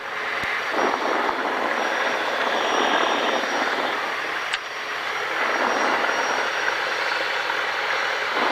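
Cessna Skyhawk light aircraft holding before takeoff, its piston engine droning steadily and loud at close range throughout, with a brief click partway and no talk.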